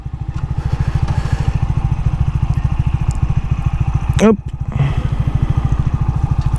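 An Orcal Astor 125 café racer motorcycle idles nearby with a steady, low, even single-cylinder chug, while someone speaks briefly and a short squeal cuts in once partway through.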